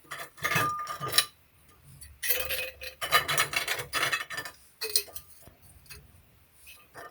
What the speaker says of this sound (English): Let me beat my ice some more